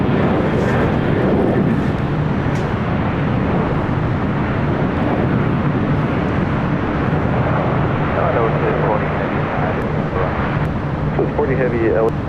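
A Southwest Boeing 737-700 in Arizona One special livery, bound for Las Vegas at LAX, produces a steady, loud broadband jet roar that persists throughout, with wind buffeting and faint background voices.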